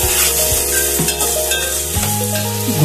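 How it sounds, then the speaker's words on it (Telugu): Onions and curry leaves sizzle and fry in hot oil for a goat boti curry, a steady loud crackle with occasional stirring scrapes, no voices. "ఉల్లిగడ్డ, కరివేపాకు వేసి కలర్ పెట్టుకోవాలి."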